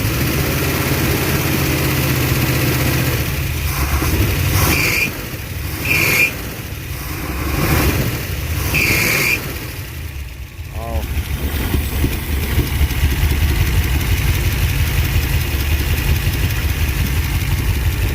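A rough, uneven Ford Mustang engine, long abandoned and dead on two cylinders, idles continuously with low rumbling and a slight stutter, while people talk nearby.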